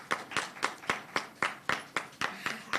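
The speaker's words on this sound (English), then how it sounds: "Please give them a round of applause" Applause at a press conference: a small group claps steadily in a few clear, regular hand claps, fairly close and moderately loud with no talking.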